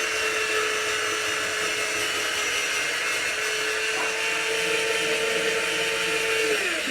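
A food processor runs continuously while grating peppers in a home kitchen, a loud steady motor whine with shifting pitch as the load changes, no voices.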